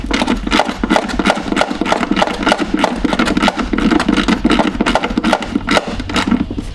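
A screw is backed out from behind the fender of a C4 Corvette during front-end collision repair, giving a close, steady stream of rapid mechanical clicks and whirring that runs unbroken from start to finish.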